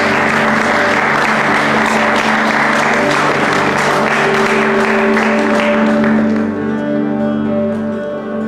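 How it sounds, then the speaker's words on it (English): A church congregation claps steadily through a Sunday morning worship service, loud and sustained over sung and keyboard music that carries on as the clapping eases near the end. "let's use our hands to clap God this morning"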